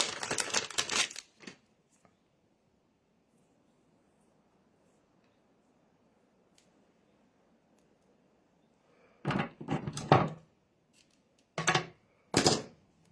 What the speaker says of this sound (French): On met de la colle et puis on va mettre du ruban adhésif pour bien le tenir.